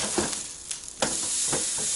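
Steak sizzles on a Philips electric grill while being flipped, a steady close hiss of frying broken by a few soft scraping and handling knocks.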